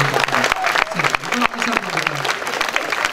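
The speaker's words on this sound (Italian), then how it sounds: "Un applauso alle mamme." An audience claps at a comedy show on stage, applause mixed with voices and laughter, fairly short and busy.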